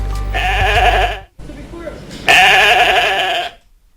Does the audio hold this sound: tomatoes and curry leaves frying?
no